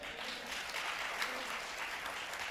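Clapping from a church congregation, a dense, sustained wash of many hands blending into a steady roar heard from a distance.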